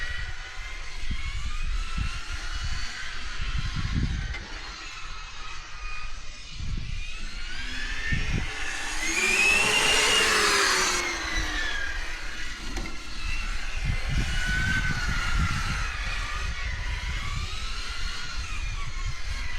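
An SNRC S86GT V2 RC car races around a test track, its motor giving a steady high whine that rises and swells near the middle as it passes close, with bumps and rumbles from the surface throughout.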